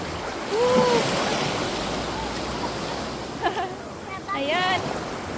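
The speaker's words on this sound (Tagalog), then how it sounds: "Medyo malalaki yung waves." Strong ocean waves break on a beach in a steady, broad wash of surf with wind noise, while excited voices and shouts cut in over the water at close range.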